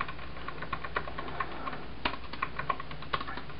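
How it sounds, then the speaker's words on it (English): Keys clack on an Apple wireless Bluetooth keyboard in a quick, uneven run of close, crisp taps, with a few louder strikes standing out against a quiet background. "I'm typing now."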